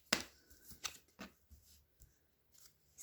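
Tarot cards being shuffled up close: soft riffles and light snapping flicks in a quick, uneven series, faint and with no voice.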